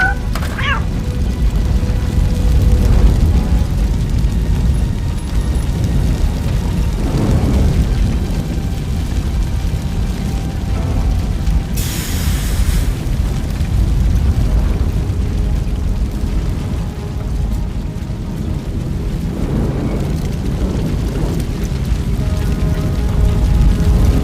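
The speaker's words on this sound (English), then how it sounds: "Fire is blocking the way." Steady roaring blaze of fire blocking a passage in the video game Robocop Rogue City, a continuous loud low rumble with crackling swells that runs unbroken throughout, with no voices heard.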